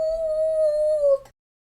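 A reader's voice imitates a tiny ghost's howl, one long sustained wavering tone held for over a second and then cut off into silence.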